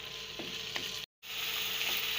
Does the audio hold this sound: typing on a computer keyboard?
no